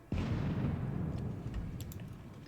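A battery of 18-pounder guns fires in a Napoleonic wargame set around Salamanca: one loud, close boom followed by a long, rolling rumble that fades slowly.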